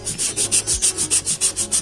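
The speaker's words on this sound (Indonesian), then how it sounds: "Nah, selanjutnya kita halusin lagi seperti ini." Coarse rasping strokes of sanding on a solid teak wood slingshot part, about ten steady back-and-forth rubs in an even rhythm, loud and close with no talk.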